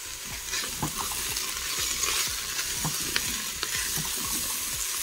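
Carrots and potatoes browning in a pot with salt and pepper sizzle steadily, with a spoon scraping and stirring through them in soft repeated strokes.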